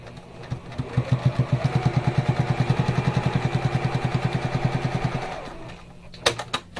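A sewing machine stitches a fabric bag's side seam shut in a fast, even run of mechanical stitch beats for about five seconds, then stops, followed by a few sharp clicks.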